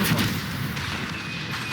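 A Stupefy stunning spell fires in the video game Hogwarts Legacy, a loud booming burst with a rushing, crackling tail that holds steady through the short moment, no talking.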